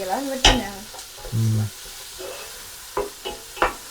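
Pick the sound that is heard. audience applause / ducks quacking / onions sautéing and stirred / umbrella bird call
onions sautéing and stirred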